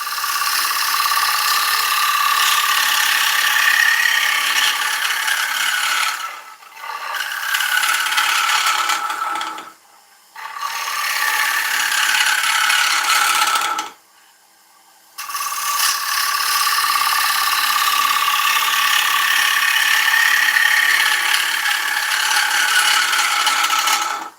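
Oak being turned on a wood lathe in a workshop, a loud continuous scraping, rasping roar of the tool on the spinning timber, broken by three short pauses where the cutting stops, with no talk.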